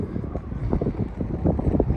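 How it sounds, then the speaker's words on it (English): Strong gusty wind buffets the microphone near a railroad crossing, a loud low rumbling roar with uneven pulsing thumps through the whole short stretch. "It is really windy today. Sorry about all that wind."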